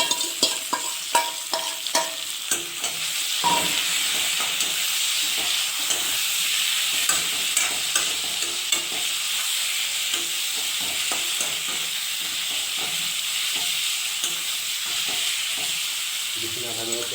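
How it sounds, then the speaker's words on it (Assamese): Marinated duck meat sizzling loudly in a pan over browned onions, with a constant frying hiss broken by repeated scraping stirs, near and continuous. "এতিয়া আমি ইয়াত মেৰিনেট কৰা মাংসখিনি দি দিম।"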